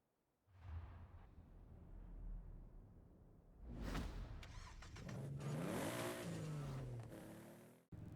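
Car driven in a car-tuning racing video game, the engine revving and accelerating with rising and falling pitch sweeps, a whooshing pass near the middle, loud and steady then cutting out abruptly at the end.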